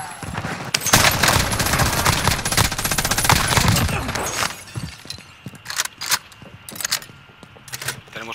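Dense automatic gunfire in Call of Duty Warzone rattles loudly for several seconds, then gives way to sparser single shots and sharp impacts.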